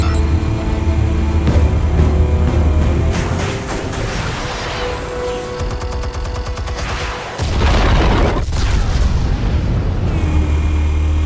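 Explosives detonate in Batman: The Telltale Series, bringing heavy booms and crackling blasts layered over a dramatic game score. A short lull comes midway before another loud rumbling burst.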